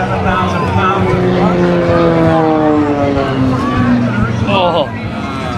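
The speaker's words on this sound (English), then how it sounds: "That highly modified Chevy S10 pickup is powered by J34 jet engine" Highly modified Chevy S10 pickup powered by a J34 jet engine at an airshow in Rhode Island, a loud sustained roar with shifting pitch sweeps as it runs, while an announcer talks over it.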